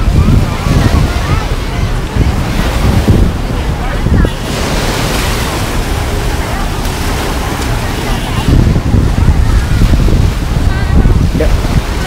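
Sea waves wash onto the sand at North Pattaya beach in Thailand, a steady broadband roar of surf close by, with wind buffeting the microphone.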